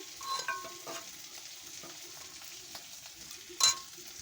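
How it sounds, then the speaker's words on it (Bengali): Ginger, cumin, green chili and tomato spice paste for chana dal frying in a pan, with a soft steady sizzle, a few scraping stirs and one sharp clink near the end, close and without talk. "এখানে ছোলার ডালের জন্য একটু মশলা কষাচ্ছি"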